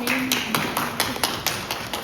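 Audience at a teacher training session clapping hands for a speaker, a brief round of sharp, evenly spaced claps of moderate loudness over a murmur of room noise.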